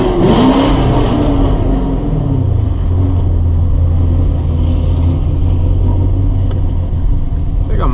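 A Camaro SS V8 pulls steadily at night, a loud engine drone rising through the gears and then holding a deep, sustained rumble over eight seconds of continuous road noise.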